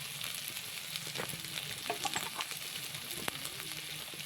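Spices frying in hot oil in a pan for a village-style fish curry, with a quiet, continuous sizzle and occasional scrapes from stirring, and no talking.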